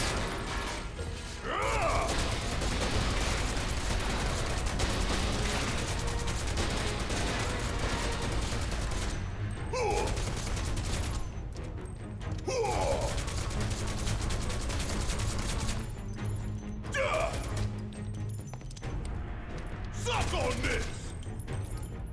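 Barret's gun-arm fire while shooting boxes in Final Fantasy VII Remake: dense, continuous rattling gunfire and mechanical clatter, with sharper bursts at intervals over a busy game soundscape.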